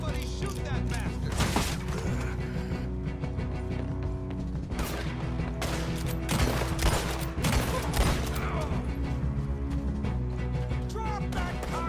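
Gunfire in Red Dead Redemption 2, with bursts of rapid shots and sharp cracks scattered across a tense shootout, mixed with mechanical clicks and impacts while voices shout over the action.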